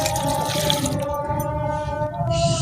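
Water pours steadily from a bowl onto a pan of chopped tomatoes, about a kilogram, for a ketchup recipe, giving a continuous close splashing gush with no talk.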